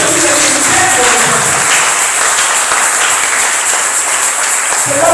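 A congregation applauds during a church service, a steady, dense wash of clapping that stays loud and even throughout without any break.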